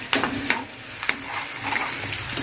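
Garlic frying in a pan until browned: steady hiss and sizzle of oil with a few sharp pops and stirring clicks, close and continuous.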